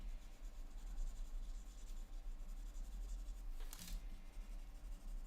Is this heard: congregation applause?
no